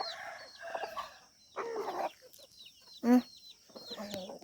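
Desi village chickens cluck in short bursts close by at early-morning feeding, with a brief loud rooster-like call partway through and faint ambient noise between.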